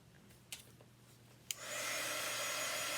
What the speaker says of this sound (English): I'm gonna dry this with my dryer.